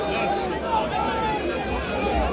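A dense crowd at a political rally in Kano gives off a steady murmur of chatter and babble that carries throughout, with voices mixed in and no clear break.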